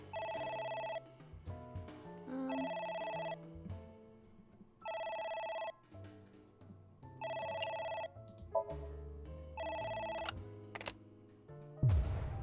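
A phone in the video game AI: The Somnium Files rings repeatedly in steady, evenly spaced electronic bursts, loud and close, over quiet background music with no speech.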